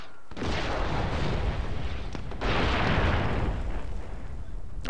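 Artillery fire in a Medal of Honor Warfighter multiplayer match lands as two heavy booming blasts, the second following a couple of seconds after the first, each leaving a rolling, rumbling wash.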